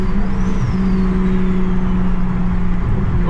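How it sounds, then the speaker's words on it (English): A single-turbo BMW 335i engine revs under throttle, a loud, close, sustained drone with steady pitch and a faint whistling whine above it, no talk. "Just play around with the throttle."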